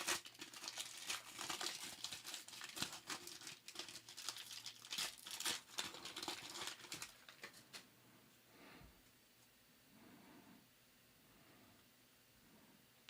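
A foil trading card pack wrapper crinkles and tears open up close, dense rustling for several seconds, then quieter handling of the cards.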